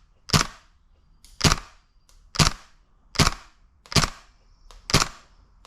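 Kriss Vector airsoft gun, old and long stored, firing at a target: six sharp snapping shots, evenly spaced about a second apart, close and crisp against a quiet background.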